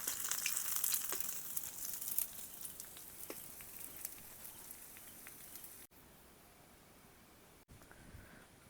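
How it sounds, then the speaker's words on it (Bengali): Small pond-raised fish fry in hot oil, a dense crackling sizzle that starts fairly loud with scattered pops, then settles into a quieter, steadier hiss. No speech. "বাকি মাছগুলো ও একইভাবে ভেজে নেব"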